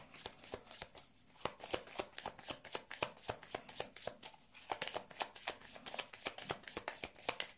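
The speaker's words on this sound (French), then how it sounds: "je vais mettre la dernière carte hein, pour voir" Tarot cards handled and laid down on a table, producing a rapid, steady run of crisp papery snaps and taps, close and clear with no talking.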